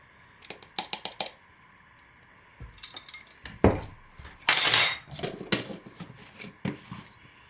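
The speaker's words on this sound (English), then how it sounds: "So I'm going to go ahead and stir my mocha brown in." Mocha brown colorant being stirred by hand into pumpkin caramel scented soap base, with clinks and scrapes of a utensil against the container in irregular bursts, close and moderately loud, with a longer scraping swirl midway.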